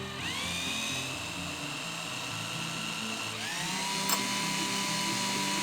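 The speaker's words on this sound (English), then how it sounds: "I'm gonna drill a hole in this bolt." A power drill whines steadily as it bores a hole into a stuck bolt on an RM250 dirt bike, the motor spinning up twice to a high sustained pitch, close and alone.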